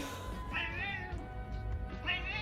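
A cat gives two drawn-out meows about a second and a half apart, fairly close but quiet, over a low background hum.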